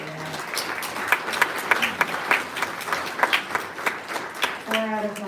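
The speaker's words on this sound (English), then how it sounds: "So let's give a round of applause for that." Applause from a crowded audience at a nonprofit's annual meeting, steady dense clapping lasting several seconds before fading, with a voice speaking briefly at the end.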